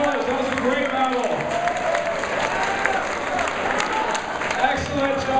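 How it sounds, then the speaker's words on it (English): Dense, sustained clapping from a crowd at a School for Fools dance battle, with scattered shouts mixed into the steady applause. "Let's give a big round of applause for our judges, Frankie Flav, Casper, and Little Bob."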